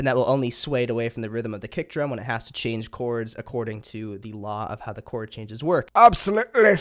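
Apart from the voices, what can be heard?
No distinct noise like a dog, phone or traffic.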